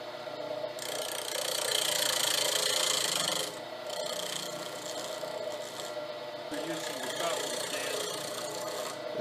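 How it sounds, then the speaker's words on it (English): Detail gouge with a 35-degree grind cutting into spinning wood on a lathe, a steady close rasping scrape that swells louder for a few seconds and then carries on slightly softer, with faint talk underneath. "It's a detail gouge."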